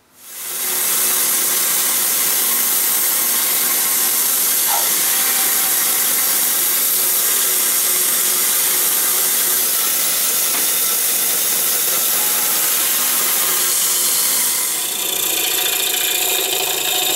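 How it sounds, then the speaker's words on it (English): A bandsaw cuts the corners off a wooden ukulele blank, a steady, loud, broadband rasping hiss running continuously for the whole stretch, easing slightly near the end with no talking. "I'm going to go over to the bandsaw and just knock the corners off of it"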